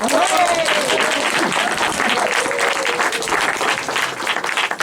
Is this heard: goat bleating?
no